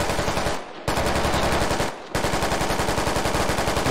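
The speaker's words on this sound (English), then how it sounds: "So you want to tell me what all that fucking shooting is?" Rapid machine-gun fire in the video game Squad, loud sustained bursts broken by two brief pauses, then resuming as a steady rattling stream.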